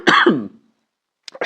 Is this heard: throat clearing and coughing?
yes